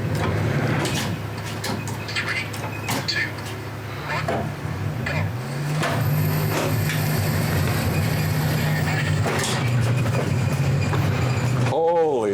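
A rally car in a driving simulator launches off the handbrake, its engine droning steadily, then surging and climbing in pitch, with people talking over it.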